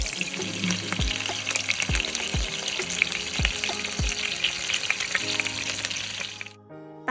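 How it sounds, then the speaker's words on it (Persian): Steady, loud sizzling of chicken frying in butter in a pot, with periodic scraping stirs and a brief watery clink near the end. "مرغ رو داخلش بذارید که سرخ بشه."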